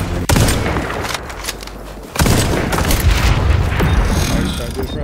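A frag grenade blast in the shooter XDefiant hits as a sharp, loud boom with a dull thud after it, set among heavy gunfire and rumbling explosions, close and continuous, with no talk.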